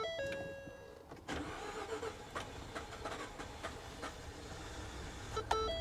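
A Corvette with 89,000 miles starts and settles into a steady, close engine rumble, with electronic chime tones sounding at the start and again near the end; no one speaks.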